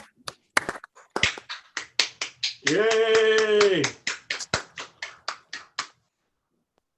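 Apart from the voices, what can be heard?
audience applause for honorees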